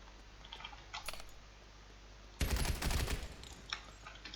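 Gunfire in the video game Escape From Tarkov: a short, loud burst of rapid automatic shots, with a few fainter earlier pops leading up to it.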